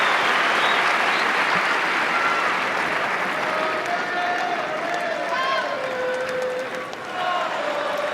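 A large tennis crowd at the Roland-Garros final applauds and cheers in a dense, sustained wash of clapping, with whistles and calls rising above it.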